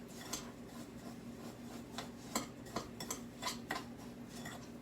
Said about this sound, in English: mix up these panko crumbs with this melted butter